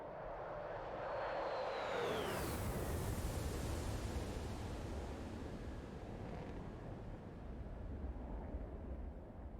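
An aircraft in a video game drones steadily with a broad, rushing engine roar, sweeping past with a brief rise in pitch early on, then continuing as a constant distant rumble without talking.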